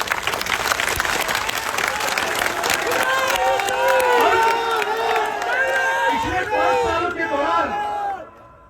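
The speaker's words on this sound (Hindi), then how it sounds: "इस बिश्नोई साहब के लिए जबरदस्त तालियां हो" A large crowd at a Congress election rally for Sukhram Bishnoi claps loudly and cheers with shouts and chants, dense and continuous before fading at the end.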